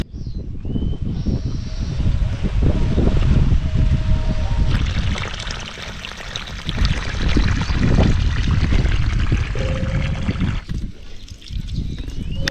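Water pours and splashes onto plants and grass in a village okra field, a loud continuous rushing flow that steadies, briefly eases, then surges again with trickling at the end.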